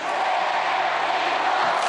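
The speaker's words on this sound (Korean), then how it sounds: "경기장은 뜨거운 함성과 환호로 가득 찼습니다" A packed arena crowd roars and cheers after South Korea's bronze-medal win over Italy in Paralympic ice hockey at Gangneung Hockey Centre, a dense, loud, sustained wall of shouting that never lets up.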